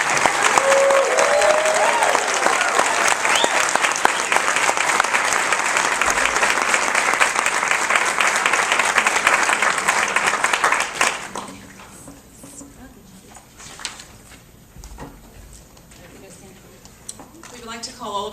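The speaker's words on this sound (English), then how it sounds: "Big rounds of applause for the graduating class." Dense, loud applause from a large crowd at a nurses' graduation pinning ceremony fills the first ten seconds, then quickly fades to scattered clapping and murmuring.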